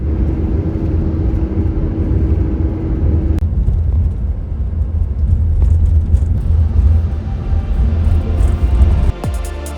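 Inside a long-distance bus heading to Antofagasta, Chile, a constant engine drone and road rumble fill the cabin, with a steady whine cutting off partway and a soft clunk near the end.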